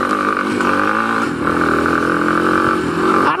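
A motorbike engine revs hard and steady up close while riding fast along dirt trails, with a brief dip in throttle midway and rattling clatter underneath.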